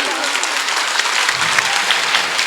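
Loud, close burst of dense clapping from the audience at a school annual function at a madrasa in Azamgarh, sustained evenly for a couple of seconds.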